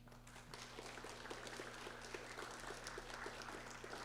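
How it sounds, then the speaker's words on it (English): Fairly quiet applause from an in-person audience at a lecture event, a dense, steady patter of clapping heard at a distance over a low mechanical hum. "give them a round of applause"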